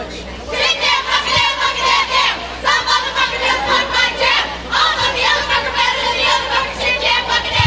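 A roller derby crowd roars and whoops as the Duke City team takes the track, loud sustained cheering in rising waves with shouts, close and continuous.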